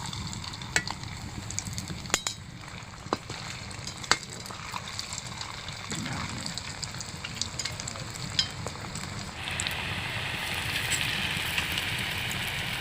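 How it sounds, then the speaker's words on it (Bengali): Potato strips for French fries frying in hot oil give a steady close sizzle with scattered crackles and pops, and the hiss grows louder and denser toward the end, with no talking. "তো তেলটা গরম হয়ে গেছে, আমি এবার একটা একটা করে ছেড়ে দেবো তেলের মধ্যে।"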